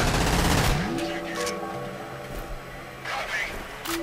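In F.E.A.R., a heavy-kicking gun fires a loud burst at the start, then shorter cracks follow, mixed with electronic game tones while someone talks over the action.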